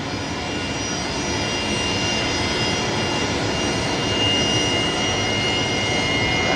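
A Fokker airliner taxiing into Bay 49 at Brisbane Airport gives off a steady, fairly loud engine roar with a faint high whine, holding level throughout with no voices.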